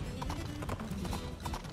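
Horse hooves clop rapidly in a Princess Peach video game, a dense rhythmic trot of hollow clip-clops heard close and fairly loud over a brief stretch.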